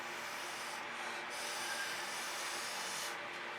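A spatula scrapes through fluid acrylic paint in a continuous, close, even rubbing drag with a soft gritty texture and no talking.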